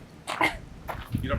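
A person on a boat under refit gives a short, sharp sneeze, followed a moment later by a second burst of breathy sound, close and fairly quiet.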